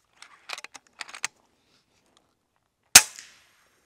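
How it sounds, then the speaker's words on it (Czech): FX Impact M3 air rifle fired at 130 bar on an outdoor range, a single sharp, loud crack with a short tail, preceded by a few faint clicks of handling. "Tak máme nastaveno 130 barů a zkusíme další výstřel."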